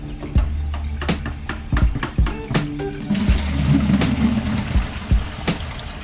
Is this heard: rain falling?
no